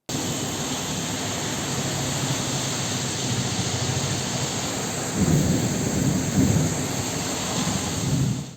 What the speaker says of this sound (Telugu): హైదరాబాద్ సహా పలు ప్రాంతాల్లో కుండపోత వర్షం కురిసింది